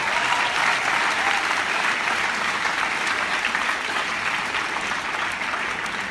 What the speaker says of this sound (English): give a huge round of applause to the people who are standing in the aisles